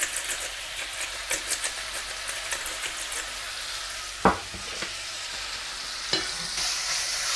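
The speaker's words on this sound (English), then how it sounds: "And we're gonna fry until nice and brown on all sides" Seasoned meat for Norwegian lapskaus frying in a pan, a steady soft sizzle with occasional stirring scrapes and a couple of sharper clinks, alone with no talk.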